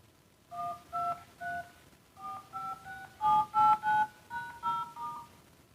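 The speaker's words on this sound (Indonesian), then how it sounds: "DTMF tone generator yang berasal dari" Phone keypad DTMF tones from a tone generator app, a series of short dual-pitched beeps in irregular clusters, each key press distinct and clean against a quiet background.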